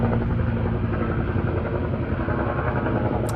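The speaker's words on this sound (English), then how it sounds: "Helicopter." A helicopter thunders close by with a loud, steady rotor chop and engine drone that holds constant throughout, with no talk over it.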